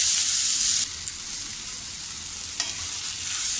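Tomatoes sauté in a pan for a soya chunks masala, a loud steady sizzle that drops to a softer hiss partway through, with a couple of brief stirring clinks.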